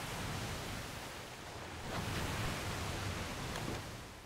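Ocean waves roll in the video game Don't Starve Shipwrecked, a soft continuous surf wash that swells slightly midway and then eases.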